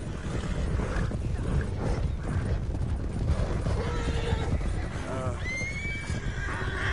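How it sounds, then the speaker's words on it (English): Horses in the Red Dead Online video game whinny loudly in several rising calls near the end, over steady hoof clatter and busy game noise. "everyone is jumping on each other's horses"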